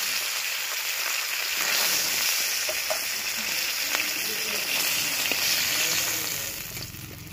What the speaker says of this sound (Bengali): দেখুন মাছের মাথাটা খুব ভালোভাবে ভাজা হয়ে গেছে।